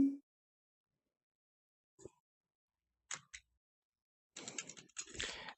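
Keyboard keys pushed in The Stanley Parable: a few sparse, isolated clicks spaced seconds apart, then a short flurry of quicker presses, close and quiet against silence.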